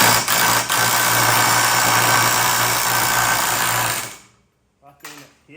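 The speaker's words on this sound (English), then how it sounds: "Let's see if my trusty Ryobi can undo it." A Ryobi impact wrench hammers at a 1 5/16 inch nut on a Harley-Davidson Shovelhead engine, a loud, continuous rattling burst lasting about four seconds before cutting off, followed by a brief voice.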